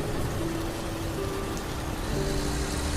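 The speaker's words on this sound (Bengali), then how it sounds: "আরও জোরে বৃষ্টি শুরু হলো" Heavy rain pours in a cartoon storm scene as a truck drives on, a steady dense hiss holding at an even level throughout with no voices.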